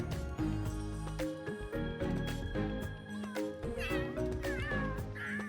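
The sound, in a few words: cats meowing in the video game The Sims 3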